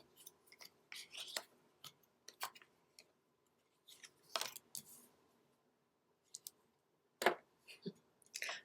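Tarot cards being shuffled by hand, a loose series of soft papery riffles, taps and clicks in irregular bursts separated by quiet gaps, close and faint.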